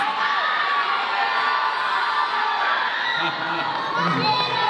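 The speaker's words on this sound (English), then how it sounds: "One more big round of applause for these three beautiful ladies." A crowd at a performance event cheers and whoops loudly and continuously, with shouting voices blending into a steady wall of applause and cheering.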